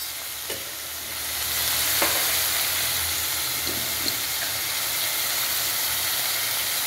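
Tomato, ginger, garlic, chili and garam masala sauté in a pan for a leftover-chapati egg kothu parotta, giving a steady close sizzle and hiss with a few faint stirring clicks and no talking.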